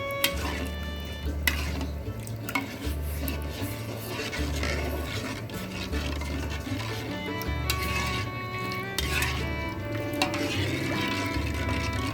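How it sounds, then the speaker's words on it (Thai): A spoon stirs and scrapes steadily around a pot, dissolving sugar into liquid for pickling rice-field crabs, in repeated strokes, with a low rhythmic background underneath. "ก็คนให้น้ำตาลละลายนะครับ"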